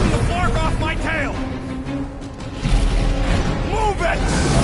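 Overloaded ship batteries exploding in the Guardians of the Galaxy video game, loud booming bursts and crashing debris over dense background action, with voices talking over it.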